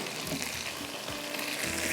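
Taro root with chillies frying in a pan, a continuous close sizzle with soft stirring scrapes, no voices.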